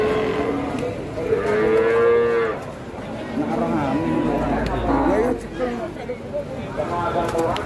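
PO breeding cows at the Jatirogo cattle market moo repeatedly, long drawn-out and close, with people talking and market noise in the background.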